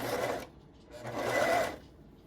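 A serger runs in two short bursts, stitching a sleeve into a garment, loud and close with a brief pause between runs and no talking.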